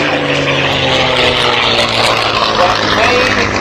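A propeller aircraft engine at an air show roars loudly and steadily, a dense continuous drone near the listener, with a voice talking underneath.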